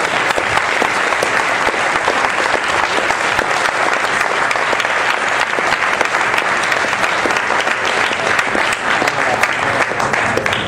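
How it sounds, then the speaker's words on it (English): Audience applause fills the room after a collecting panel discussion, sustained and dense clapping at steady loudness for about ten seconds with crowd noise mixed in. "big applause"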